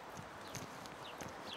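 A horse's hooves on an arena surface during a lead change while riding, a soft rhythmic clip-clop at a moderate distance under steady background noise.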